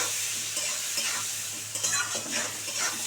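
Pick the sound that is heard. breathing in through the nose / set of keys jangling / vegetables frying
vegetables frying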